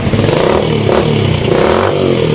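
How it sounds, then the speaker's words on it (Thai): A Yamaha X1-110 motorcycle with a loud modified exhaust idles and revs loudly and steadily, close by, with a rough rattling exhaust tone throughout and no voices. "ลองฟังเสียงดูครับ เครื่องยนต์ติดแล้วครับ"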